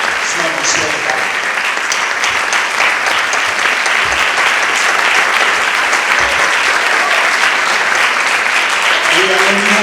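Strong, sustained applause from a large audience at a literary awards gala in Sagunt, loud and dense clapping from start to finish with faint voices mixed in beneath.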